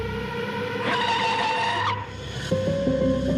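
A van brakes hard and skids to a stop in the middle of a road, its tires squealing in a loud, sustained screech before a short tonal chime follows.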